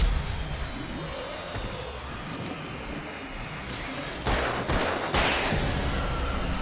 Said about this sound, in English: Oh, that's just the fireworks.